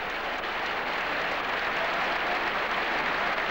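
Steady, dense applause from a large crowd fills a Madrid bullring at a 1992 afternoon bullfight, with Raffaella Carrà among those clapping; the broad wash of hands holds even and sustained throughout, with no voices standing out.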